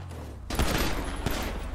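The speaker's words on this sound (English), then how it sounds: "What did you shoot him with? My 50 cal." Video game 50 cal gunfire, a sudden burst of heavy rapid shots starting about midway, loud and close, followed by a further sharp report.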